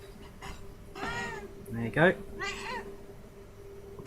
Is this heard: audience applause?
no